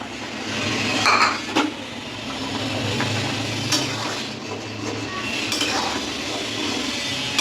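Paneer going into a hot pan for a Bengali paneer curry, with a low steady sizzle and a few scraping stirs and utensil clinks near the start, no talking.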